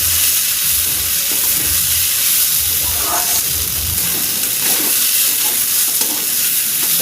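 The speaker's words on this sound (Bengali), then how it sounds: "চালটা ভাজা হয়ে গেছে" Rice frying and being stirred in a hot pan while making chaler muri ghonto, with a steady, loud sizzle and scraping stir strokes throughout.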